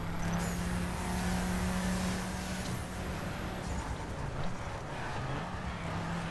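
A VW Touareg driving off-road on dirt in The Crew: a steady, moderately loud engine drone with a low hum and road noise, continuous throughout without clear gear changes.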